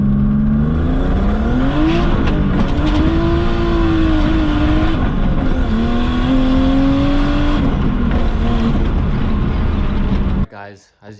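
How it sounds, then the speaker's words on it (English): A turbocharged BMW E36 on a budget build roars at full throttle, its engine pitch climbing and surging through repeated pulls, loud and close for about ten seconds before dropping away abruptly. "we are ripping full throttle, no issues"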